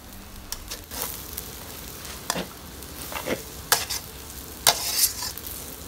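Rice vermicelli with soy sauce and minced pork sizzles steadily in a hot pan, broken by repeated scraping and clanking of a spatula as it is stir-fried up close.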